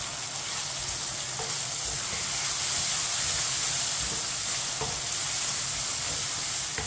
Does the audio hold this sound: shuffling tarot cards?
no